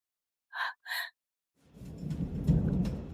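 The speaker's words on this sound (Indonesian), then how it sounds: "Ada hujan badai di luar." Outside, a thunderstorm with rain rumbles in after two short tones, swelling into a low, steady roar of rain and distant thunder that builds toward the end.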